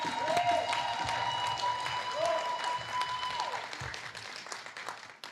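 An audience at a university induction and awards ceremony for medical graduates applauds steadily for several seconds, with a few voices rising over the clapping before it fades out.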